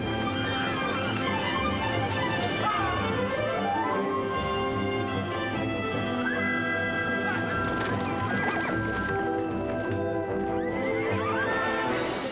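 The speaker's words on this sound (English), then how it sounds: "He was running with a band of other horses" Horses whinny and neigh loudly over steady galloping hoofbeats as a band of wild horses runs together, with a dense orchestral film score playing throughout.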